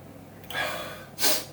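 Two quick, breathy sniffs close to the microphone, a short one followed by a sharper, louder inhale through the nose, smelling the aroma of a session pale ale through its foam.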